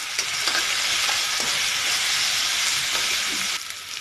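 Spice masala sizzles in hot oil in a pan for a sprouted moth bean and cauliflower curry, a steady loud hiss with light stirring scrapes throughout.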